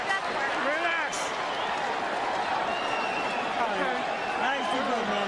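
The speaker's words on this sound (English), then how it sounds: "the crowd is up now. It's a Mexican crowd now." A Mexican crowd at a boxing fight cheers and applauds in a constant loud roar, with occasional whistles and shouts rising out of the mass of voices.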